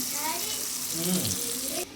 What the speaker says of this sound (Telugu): ఇందులో కొంచెం వాటర్ వేసి